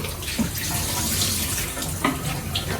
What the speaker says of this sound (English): run some water through the film.